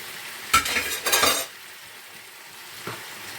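Onions and tomatoes cooking in a pan for tchouk-tchouka: two short bursts of stirring and sizzling close by, then a quiet low hiss of frying with one faint clink near the end.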